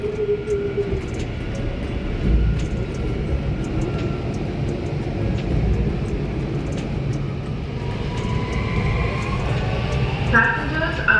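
Delhi Metro RS17 train running between stations on an opening-day ride, a steady rumbling interior rail noise with rising motor whine near the end, heard from inside the carriage.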